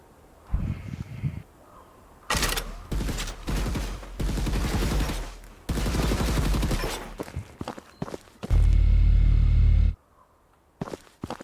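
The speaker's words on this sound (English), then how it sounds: "Ooh, laser turret." Bursts of rapid energy-weapon fire from a laser turret in the video game Gearstorm come in loud, dense volleys, followed by a sustained deep rumbling blast and sharp single shots.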